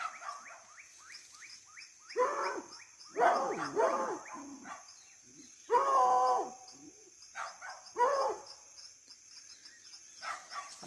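A pack of hunting dogs barks in bursts in tall grass while picking up a trail, the yelps and bays coming in clustered volleys at moderate distance over a steady insect drone.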